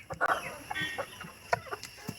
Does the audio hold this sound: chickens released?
yes